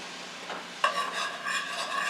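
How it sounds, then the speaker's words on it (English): A whisk works through a thick, mashed-potato-like paste for a beef pasta dish. Steady scraping, swishing strokes start after a quiet moment and carry on continuously, close and moderately loud. "as I put it in, I'm going to whisk and mix it in"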